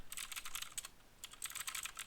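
Quick bursts of light clicking keystrokes on a computer keyboard, two runs of rapid typing separated by a short pause, close and fairly quiet with no talking.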